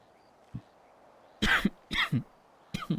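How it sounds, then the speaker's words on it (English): A few rough, close coughs in short bursts, a small throat noise first, then paired hacking coughs with brief pauses. "got a bit of a cough"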